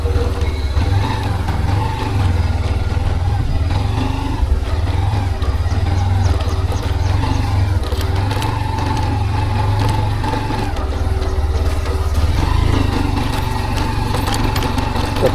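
A vehicle engine runs steadily while driving to the historic Raireshwar fort, a constant low rumble with slight variations in pitch and no pauses.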